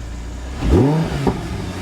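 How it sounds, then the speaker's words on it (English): A car engine revving freely once, a close rising roar that swells quickly, then drops back toward idle with a small second blip. "Very freely revving engine,"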